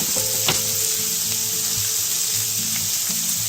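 Potatoes fry and caramelize in a pan for a frittata, a constant close crackling sizzle with a soft scrape of stirring now and then, alone without voices.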